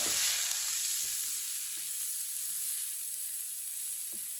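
Chicken kebab mixture sizzles steadily in a pan, a bright continuous frying hiss with occasional soft stirring knocks, close and alone.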